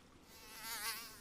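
Mosquitoes whining on a summer evening, a thin high buzz that swells and fades, as if one passes close by the ear, faint and alone.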